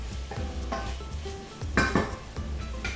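Cauliflower, carrot and potato pieces stir-fried in a pot for Maharashtrian vegetable pulao, heard as close scraping and clanking of a metal spoon against the pot in quick, uneven strokes, with no voices.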